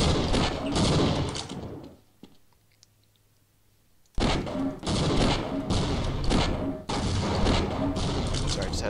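Gunfire at a target range in the video game Half-Life: Blue Shift comes in loud, dense bursts. It runs for about two seconds, stops for a quiet gap with a few faint clicks, then returns as several more sustained volleys.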